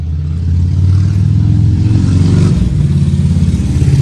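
A motorcycle engine revs close by, a loud, steady low rumble that rises and dips slightly throughout, with no voices.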